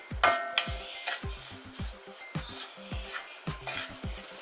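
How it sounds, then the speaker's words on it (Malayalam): Ivy gourd mixture stirred in a hot pan, a spoon scraping and knocking against the metal in a quick repeated rhythm over a light sizzle. "ഞാൻ നന്നായി ഒന്ന് മിക്സ് ചെയ്തെടുക്കാം"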